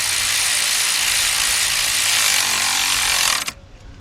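Cordless power ratchet tightening alternator bolts on a 2009 Chevy Tahoe with the 5.3 engine, a loud steady whirring drive running without pause for about three and a half seconds before cutting off abruptly, no talking.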